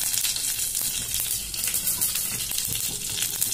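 Mustard seeds sizzle in a ladleful of hot oil in a pan on the stove, a loud, continuous spattering hiss with scattered crackles throughout.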